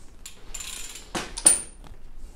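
A ratchet tool works on a bicycle bottom bracket: a few short metallic clicks and scrapes close by, with one sharp bright squeak, in a quiet workshop setting.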